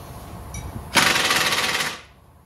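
Impact wrench tightening control arm bolts on a 2015-2020 Chevy Malibu or Cruze during a ball joint and control arm replacement: one loud rapid hammering burst of about a second, preceded by faint shop background.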